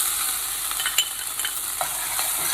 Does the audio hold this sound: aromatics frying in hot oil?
yes